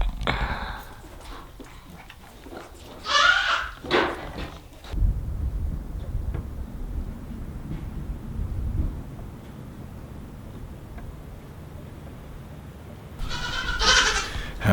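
Goats kept in a barn stall let out loud bleats and screams, one near the start and another near the end, with a low rumbling background in between.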